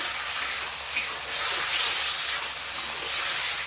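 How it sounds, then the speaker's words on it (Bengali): Fried potatoes being sautéed in oil with masala in a pan: a steady, loud, close hissing sizzle that holds evenly throughout without pause. "মশলার সঙ্গে আলুটাও আমি কিন্তু খুব ভালোভাবে কষাবো"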